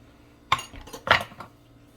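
Dishes and cutlery clink while a salad is plated, with a sharp clatter near the half-second mark, a louder cluster of clinks just after one second and a lighter knock after that, all close and with no talk.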